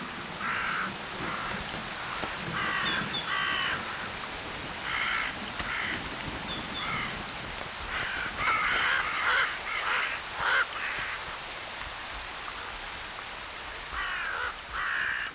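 Crows cawing repeatedly in a noisy cluster around an animal carcass in Arctic wilderness, harsh calls overlapping through steady background hiss that sounds like light rain.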